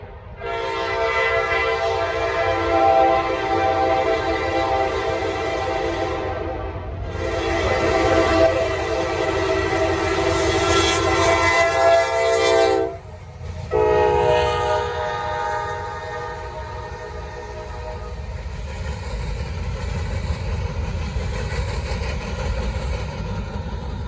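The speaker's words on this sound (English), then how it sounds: "That's P09 southbound today. Short ass train." Norfolk Southern P09 southbound freight in Gaffney, South Carolina, sounding long loud horn blasts with brief gaps as the short train rolls past, steady engine and wheel rumble continuing beneath after the horn stops.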